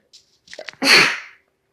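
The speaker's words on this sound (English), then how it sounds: "Oh, I think I'm going to sneeze." One loud, close sneeze preceded by a few short sharp inhales.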